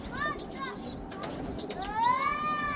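Domestic pigeons kept in a loft coo close by, with soft rising and falling calls over a steady background hiss, one longer swooping coo near the end.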